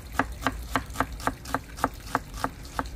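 A knife chops a small red onion on a board in steady, even strokes, about three crisp taps per second, close and clear with nothing else heard.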